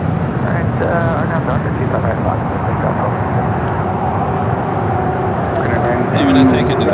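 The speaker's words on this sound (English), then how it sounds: "Next takeoff, United flight 1276 heading to Cancun, a 737 MAX 9." A United Boeing 737 MAX 9 taking off from runway 25 right at LAX gives a steady, broad roar with a faint rising whine. The sound is fairly loud and sustained, with no clear voices.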